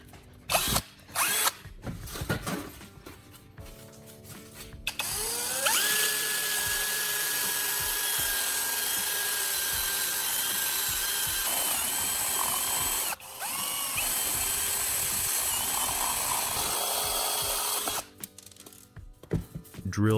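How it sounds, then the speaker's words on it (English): A step drill bit bores a hole in the thin metal shell of an old LED bulb base, a loud, steady high-pitched grinding whine lasting about thirteen seconds with one brief pause, framed by short clattering handling noises. "Use a step drill bit to make one hole on the side of the base."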